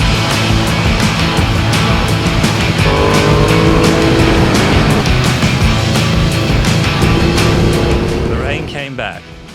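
Motorbikes ride along the road toward Megève, France, giving a loud, steady engine drone with shifting engine tones that fades out near the end.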